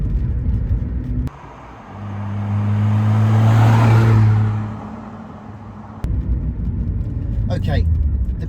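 A supercharged inline-six in an Aston Martin revs and swells to a loud roar for a few seconds before fading, with someone talking before and after it.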